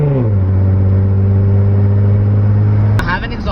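An Infiniti G37 with an Exotic Speed aftermarket exhaust gives a deep, loud, steady engine drone close by, rising slightly at the start and cutting off near the end.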